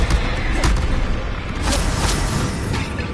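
Bombarda explosion spell in Hogwarts Legacy, heard as a short burst of booming thuds and crackling blasts over a dense, noisy game background, fairly loud throughout.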